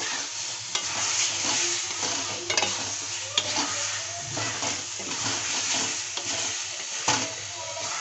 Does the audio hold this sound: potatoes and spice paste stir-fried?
yes